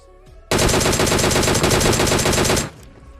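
Sustained rapid automatic gunfire in PUBG from Groza and MK14 rifles, one loud, close, continuous burst lasting about two seconds with dense, evenly spaced shots, then an abrupt stop.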